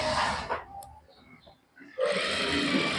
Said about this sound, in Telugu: ఒక సైడ్ ఇలా నేను స్టిచ్ చేస్తున్నాను